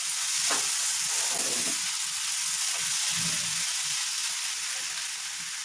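Cinnamon stick and black pepper frying in a pan of hot oil for an egg and potato curry, a steady close sizzle running throughout with faint stirring clinks and no talk.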